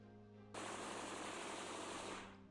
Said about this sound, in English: as the gunfire continues